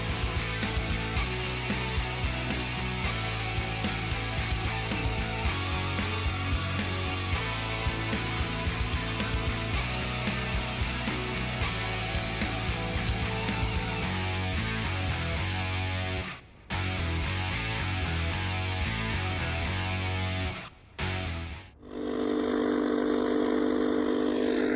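A Honda CB500X motorcycle cruises the winding Kings Highway between Batemans Bay and Braidwood in New South Wales, its engine a steady, close drone with wind rush that briefly drops out a few times near the end.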